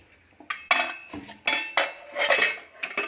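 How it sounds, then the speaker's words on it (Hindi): Several sharp metallic clanks and scrapes of a pressure cooker lid being fitted and locked onto the cooker, close by and irregular. "और कुकर को बंद कर देंगे"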